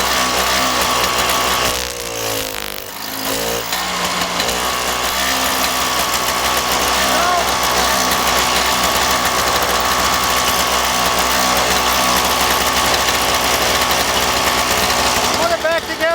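Toro snowblower engine idling steadily after its carburetor was cleaned, a loud continuous mechanical drone that keeps running without stalling.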